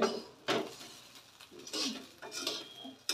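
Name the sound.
rice being fried and stirred in a pan for veg pulao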